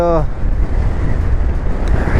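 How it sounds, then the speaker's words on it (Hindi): Strong wind buffeting a microphone on the high mountain road to Umling La, a loud rough low roar with gusty fluctuations, close and constant, after a brief tonal sound at the start. "और हवा इतनी तेज़ चल रही है"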